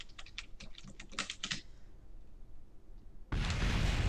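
Rapid clicks on a computer keyboard, a quick run of light key taps on the A and D keys while steering in Kerbal Space Program, followed by a sudden loud rushing roar.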